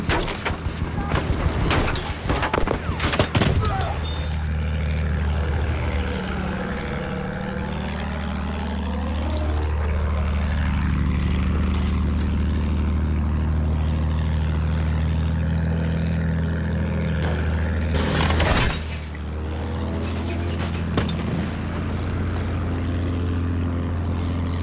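In the video game Battlefield 1, a steady, droning propeller-plane engine hums throughout, with bursts of louder crashing and gunfire-like noise near the start and around the middle.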